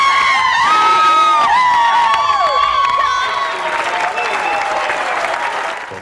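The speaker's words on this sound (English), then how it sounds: "perform for his thousands of screaming fans and voters" A large outdoor political rally crowd applauds and cheers loudly and continuously, with shouts and whoops mixed in, before the noise eases slightly toward the end.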